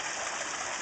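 Water pouring and splashing steadily into a backyard pond, a continuous close rushing wash with no pauses.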